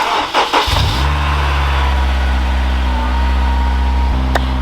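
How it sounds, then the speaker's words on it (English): A car with push-button start and a new aftermarket exhaust fires up with a brief starter whir, then settles into a loud, steady, deep idle close by. "You're going to want to clutch in and then push to start."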